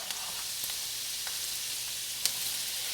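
Diced yellow sweet onion sizzles in a pan, a steady close hiss with a few faint crackles and one small tick.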